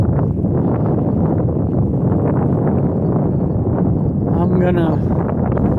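Steady wind buffets the microphone at a high scenic mountain overlook, a constant roar running throughout while a person speaks over it.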